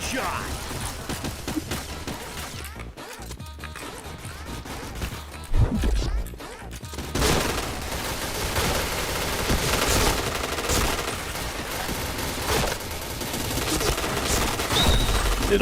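Rapid automatic gunfire from a shooter video game, dense bursts and crashes running almost continuously, loud and close, with game effects mixed in.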